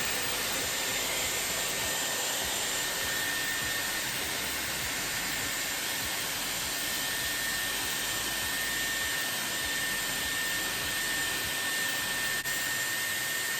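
A Dyson Airwrap runs steadily on cold shot, blowing air onto long hair being curled, with a constant loud hissing airflow and motor whine, no speech.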